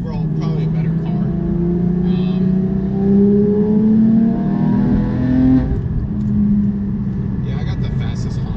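A Porsche GT3 sports car engine revs up and settles, its tone rising and falling in smooth sweeps, loud and close, with a steady idle rumble underneath.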